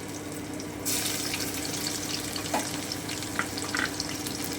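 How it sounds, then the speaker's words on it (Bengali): Crushed garlic added to hot oil with nigella seeds and green chillies, frying in a pan for a fish chorchori; a steady hiss starts about a second in and carries on alone, with faint clinks of stirring. "আমি সামান্য একটু ভেজে নিচ্ছি"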